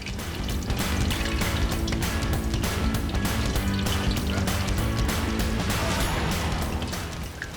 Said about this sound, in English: Let's fry these fishes.